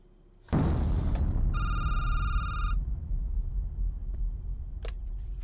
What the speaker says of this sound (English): Like a phone ring or something.